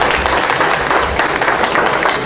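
An audience at a Haitian cultural night applauds steadily for a contestant, a dense, even wash of clapping hands throughout.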